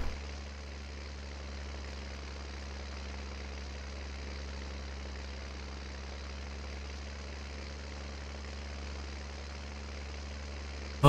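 Tractor engines idling in Landwirtschafts-Simulator 19 with Seasons, on the Walchen map during grass swathing: a steady low droning hum held at an even level throughout, with no talk.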